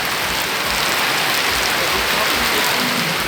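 Heavy rain pours down on a street facing a church in northeastern Brazil, a steady dense hiss of water on surfaces filling the whole clip, close and loud with no pauses.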